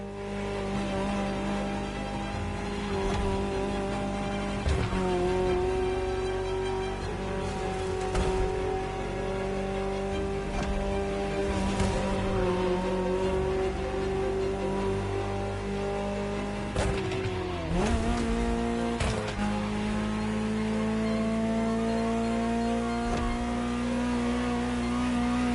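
A Ferrari supercar engine revs in a video game, the loud close note rising and holding through sustained pulls, dipping sharply around gear changes and swelling again.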